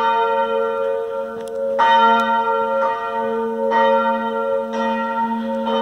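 Church bells ring in an old town, sounding loud and fairly near, with several overlapping strikes repeating at roughly one-second intervals and long ringing tones sustained between them.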